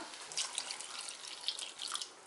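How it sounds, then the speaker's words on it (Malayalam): Second-extract coconut milk pours into a pan of thickened rice flour and first milk for Pesaha appam, a steady close splashing, trickling stream lasting a couple of seconds with no talk. "ഇനി നമുക്കിതിലേക്ക് 2-ാം പാലും കൂടി ചേർത്ത് കൊടുക്കാം."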